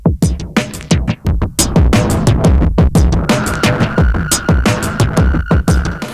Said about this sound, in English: the Retromechanical Labs Electron Fuzz, and distort the crap out of this beat